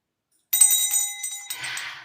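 A bell called the Freedom Bell is rung once, starting bright and loud after a short silence, its clear ringing tone sustaining and then fading into a brief rattling shimmer.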